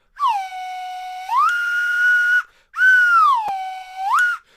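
Two long, loud whistle blasts with a sliding pitch that rises and falls, separated by a short pause, with no voices.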